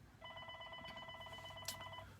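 A telephone in a real estate office setting sounds a steady electronic tone pattern, a rapid pulsing multi-tone ring lasting about two seconds, moderately quiet with faint background noise.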